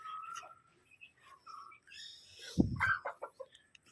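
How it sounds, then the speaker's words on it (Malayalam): Chickens let out of their coop in the morning, a few soft clucks and chirps close by, then a louder burst of squawking and clucking near the end. "അമ്മ കോഴിയെ തുറന്നുവിടാൻ പറഞ്ഞു"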